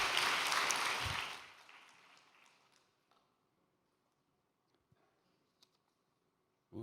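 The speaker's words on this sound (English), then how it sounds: "Let's give them a big round of applause." Loud audience applause at a large gathering fades away within a couple of seconds, leaving near silence with a few faint taps.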